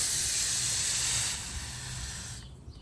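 Water from a hose sprays onto the coils of an outdoor AC unit, making a steady loud hiss that softens partway through and then cuts off near the end.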